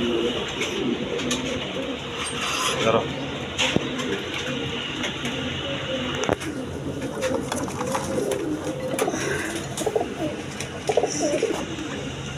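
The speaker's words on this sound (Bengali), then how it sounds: "বিভিন্ন ব্রিডের কবুতর আছে, কালারিং গোল্লা গিরিবাস সব ধরনের কবুতর আছে।" Pigeons of several breeds, including Giribaz, coo steadily in a loft close by, a dense layered murmur of calls with someone talking over them throughout.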